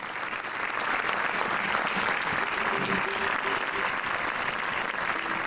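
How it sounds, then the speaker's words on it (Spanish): Sustained audience applause at a televised Canary Islands gala, dense and steady throughout with faint voices and a brief tonal note underneath. "Víctor Estárico y Fernando Cruz, a los que pido un fuerte aplauso para ellos."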